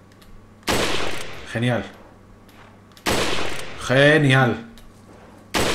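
Four gunshots in the Resident Evil 4 remake on PS5, sharp loud bursts spaced a couple of seconds apart, each followed by a brief exclamation of praise from a man.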